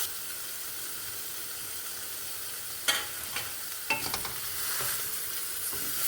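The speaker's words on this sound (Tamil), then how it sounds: "கொஞ்சம் கிறிஸ்பி ஆகட்டும், ஃப்ரை ஆகட்டும்." Paneer frying in butter in a pan gives a steady, close hiss and sizzle, with a few sharper spatters and stirring scrapes midway through.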